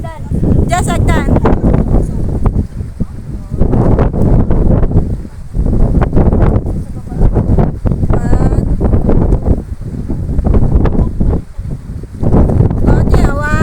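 Strong wind rumbles continuously against the mic, a heavy low-frequency roar beneath ongoing conversation, at Crystal Cave in Boracay.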